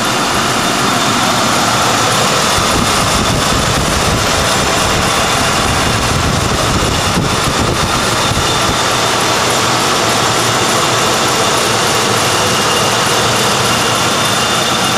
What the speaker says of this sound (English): Just absolutely no ticking, no knocking, no nothing. That engine is nice and tight.